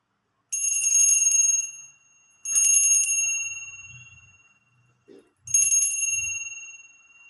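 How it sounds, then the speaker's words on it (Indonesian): A small bell rings three times, each bright metallic strike ringing out and slowly decaying, with quiet low rustling between the rings. "kita akan memulai suatu kata ramalan dengan ditandai lonceng berbunyi"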